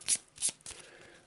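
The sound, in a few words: shuffling a deck of game cards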